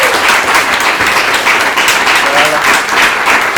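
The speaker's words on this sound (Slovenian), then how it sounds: "dajmo prosim še en velik aplavz za vse naše" Loud, continuous applause from an audience at a live comics event, many hands clapping in a thick, unbroken roar from start to finish.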